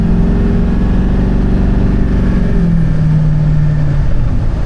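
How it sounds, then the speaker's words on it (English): A car engine pulls under moderate throttle on an open road, a loud steady drone whose pitch climbs gradually, then drops and settles lower as it shifts, running continuously with no voices. "We'll get out on the big road and do a bit of a moderate throttle pull and see what it does."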